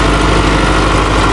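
The diesel engine of a New Holland 850 tractor working a rotavator in a field runs loud and steady, a constant heavy drone with no voices over it.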